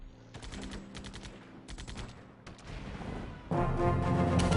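Uzi fire from units in Civilization IV rattles out in several rapid automatic bursts separated by short gaps, loud and close, followed by a harsher sustained din of battle.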